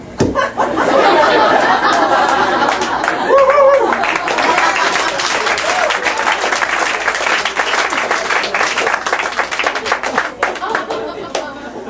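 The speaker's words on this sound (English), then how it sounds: "I got an applause." A stand-up comedy crowd bursts into loud clapping mixed with laughter and chatter, building quickly, holding strong, then thinning out with scattered claps as voices rise.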